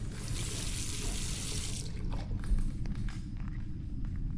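Water running to rinse a photographic plate in the video game The Last Door, a steady faucet-like splashing for about two seconds that then drops to a softer trickle with light knocks.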